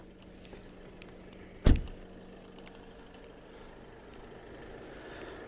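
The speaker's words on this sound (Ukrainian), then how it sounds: "Зараз піднімемо капот." The hood of a 2019 Skoda Octavia A7 with 200,000 km is released, one sharp close clunk standing out against a quiet, faintly humming background.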